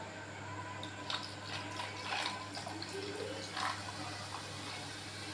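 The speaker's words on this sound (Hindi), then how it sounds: "ढेर सारी आइस क्यूब्स और साथ ही मैं डाल दूँगी स्प्राइट" Sprite fizzes and splashes as it is poured over a heap of ice cubes for a black plum mint margarita, a steady soft liquid rush with a low hum underneath.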